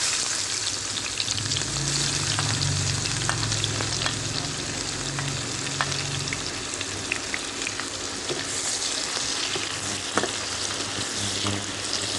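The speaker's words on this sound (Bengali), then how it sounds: "আমাদের পেঁয়াজ বেরেস্তা লাল হয়ে এসছে" Chopped local onions fry in oil for a bata fish curry, a loud, continuous close-up sizzle with scattered clicks of stirring throughout.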